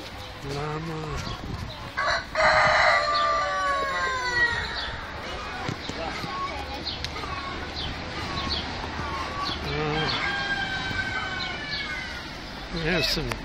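A pen full of roosters at a zoo crows and clucks continuously, with a loud burst of crowing early on and more calls later, voices faint in the background.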